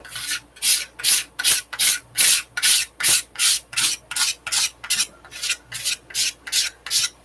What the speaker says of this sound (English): So don't waste your paint. Scrape it on another one